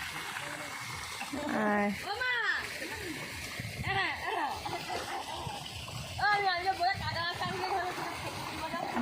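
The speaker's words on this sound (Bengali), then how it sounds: "দুটো মেশিন বসিয়ে দিয়েছে, তো জল পড়ছে।" Water splashes and gushes steadily from two pumping machines into a fish pond, a continuous stream running beneath people talking nearby.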